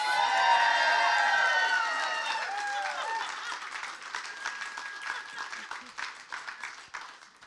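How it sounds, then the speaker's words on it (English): Wedding ceremony guests applaud and cheer for Luana, with sustained tonal whoops and shouts over the clapping; loud at first, then thinning and softening after a couple of seconds into scattered claps. "If we can give her a massive round of applause"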